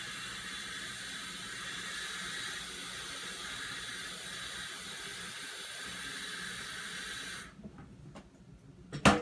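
Tap water running steadily into an electric kettle at a kitchen sink, a continuous hiss-like stream for about seven seconds, then it cuts off, followed by faint handling clatter.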